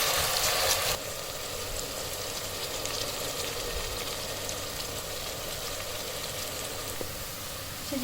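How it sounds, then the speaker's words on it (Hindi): Onions fry in hot oil with a continuous, even crackling sizzle. It is a touch louder for the first second, then settles into a steady hiss. "तो सबसे पहले हम इसमें प्याज शामिल करेंगे। बिस्मिल्लाह। प्याज को हल्का सा सुनहरा करेंगे।"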